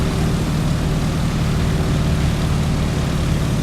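Propeller-driven PT-17 Stearman biplane in Microsoft Flight, its radial engine droning steadily at cruise power with the propeller pulled back to 1900 RPM, a loud, even low rumble throughout with no voices.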